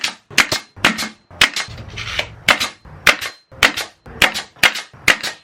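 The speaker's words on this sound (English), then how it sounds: "Got a Craftsman air nailer, and I'm going to nail these shelf boards on." A Craftsman air nailer fires into wooden shelf boards for a cheap DIY computer desk, giving about a dozen sharp, loud, close pneumatic cracks at a brisk irregular pace, with a brief hiss of air between some shots.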